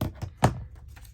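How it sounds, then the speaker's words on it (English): Scissors cut the edge off paper for a tall document journal pocket: a few short, crisp snips and taps, close and isolated, in a quiet room. "I'm going to cut off that edge there because that will get in my way."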